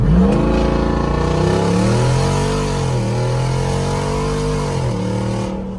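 A Jeep Wrangler Rubicon 392 SUV accelerates hard, its loud, close engine roaring and climbing through the gears with steady power, nobody talking over it.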